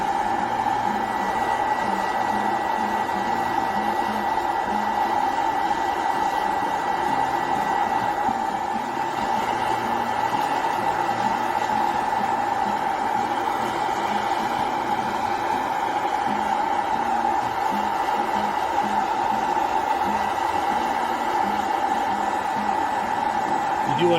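Hot air popcorn popper roasting coffee beans outdoors, giving a loud, steady blowing whir with a constant motor hum that holds unchanged throughout.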